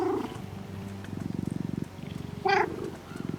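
A cat purrs while being petted in the video game No Rest for the Wicked: a steady, rhythmic rumbling purr, close and fairly loud, broken briefly by a short meow-like sound.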